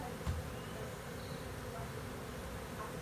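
Bees from a swarm buzz in a faint, steady drone, with one brief thump near the start.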